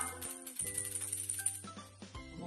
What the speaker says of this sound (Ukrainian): Маракаси грають у нас ось так.